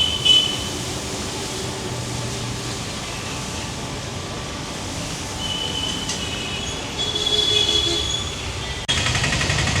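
A train at Coimbatore railway station at night gives a continuous low rumble of rolling wagons with intermittent high wheel squeals, growing louder toward the end before an abrupt shift in tone.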